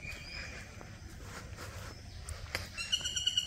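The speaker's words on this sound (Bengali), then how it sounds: "সকালবেলায় পাখির কিচিরমিচির শুনতে ভালোই লাগে" Small birds chirp faintly in a quiet village at dawn, with a few scattered calls early on and a clearer run of high, repeated tweets near the end over low ambient hum.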